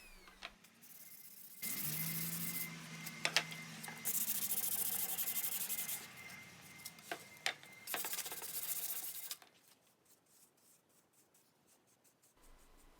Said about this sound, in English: Additional sanding is needed to prepare the frames for finish.